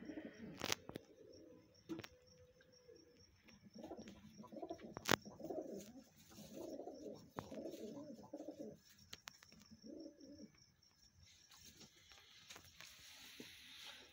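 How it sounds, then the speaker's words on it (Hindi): Pigeons cooing in a loft, a series of soft, rounded coos repeating through the middle stretch with brief sharp knocks and faint chirps around them. "बड़ा अच्छा ये कबूतर है"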